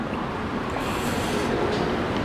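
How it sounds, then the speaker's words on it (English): Long Island Rail Road train coming into a station, a steady broadband rumble and rolling hum at a moderate distance, continuous and unbroken with no voices over it. "I see a train down there that's coming in."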